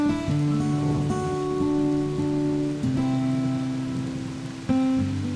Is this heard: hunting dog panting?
no